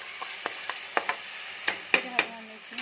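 Onion and fish frying in a pan on low heat, a steady close sizzle broken by several sharp clinks and scrapes of stirring, with no one talking.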